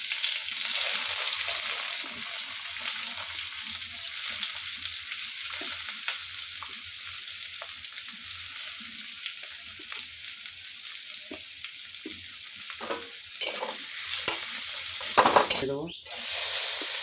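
Chopped onion sizzling steadily in a hot pan of oil while being stirred for pasta, a bright continuous hiss with occasional scrapes and clinks of the spoon near the end, close and alone.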